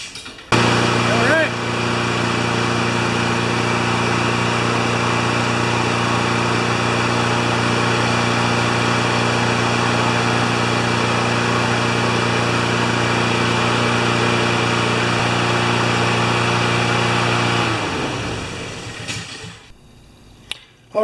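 A Honda GCV160 small engine, freshly running after its carburetor's clogged emulsion tube was cleaned, hums at a steady, even idle for about seventeen seconds, close and loud, then winds down and cuts off.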